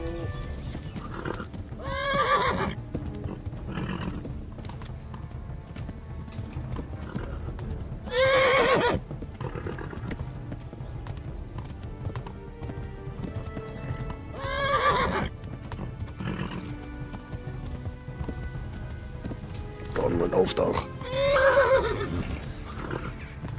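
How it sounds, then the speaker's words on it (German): A horse gallops with rhythmic clip-clop hoofbeats in Kingdom Come: Deliverance, breaking into loud neighs and whinnies several times over a steady background of movement, close and continuous. "Der Gaul geht auch wohl schneller"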